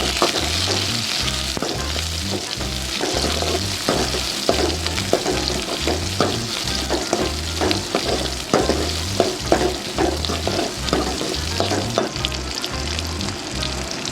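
Onion and curry leaves sautéing for yellow pumpkin sambar, a loud, close, continuous sizzle and crackle with rhythmic stirring scrapes and thumps repeating steadily throughout.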